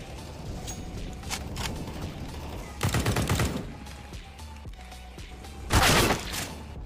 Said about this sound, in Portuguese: Ouço tiros.